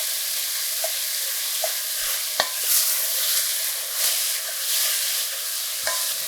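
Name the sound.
ground beef browning and being stirred in a pot for chili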